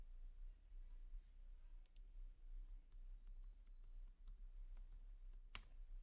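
A password is typed on a computer keyboard: sparse, quiet key clicks in an irregular rhythm over a low, steady hum, with one sharper tap near the end.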